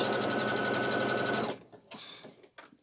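A sewing machine runs a straight stitch on the outer fabric of a girl's dress, a close, loud, rapid whirring for about a second and a half that then stops, leaving faint handling sounds.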